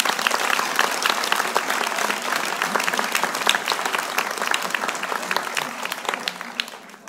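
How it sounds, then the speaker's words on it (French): A crowd at a speech in France applauds firefighters who fought the Sénart forest blaze, a loud, dense, sustained clapping that holds steady for several seconds before easing slightly at the end. "je voudrais vraiment qu'on les applaudisse."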